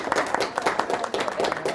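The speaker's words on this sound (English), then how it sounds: "Give her a big round of applause." Studio applause for a teacher of the week on a morning TV news show, a short burst of brisk, close clapping from a small group.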